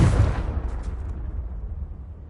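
A Confringo fire spell from Hogwarts Legacy goes off in one loud explosive burst, followed by a low rumble that fades over about two seconds.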